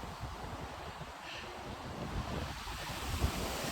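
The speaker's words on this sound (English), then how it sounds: "Very blowy the day, so I hope the wind doesn't put you off or spoil the sound for you." Strong gusting wind buffets an outdoor microphone at a coastal estate graveyard in Portstewart, giving a continuous loud low rumble with surf-like roar that swells toward the end, no voices.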